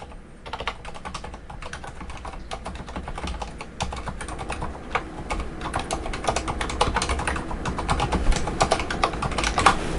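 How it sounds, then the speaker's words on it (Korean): Keys clatter in quick, busy bursts on a Leopold FC900R PD keyboard fitted with silent red switches, its muffled keystrokes close and continuous over a low background hum. "이거는 제가 이제 간단하게 좀 타건을 해보게 되면은"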